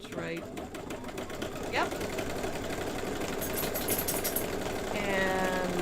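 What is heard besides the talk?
embroidery sewing machine stitching a quilt block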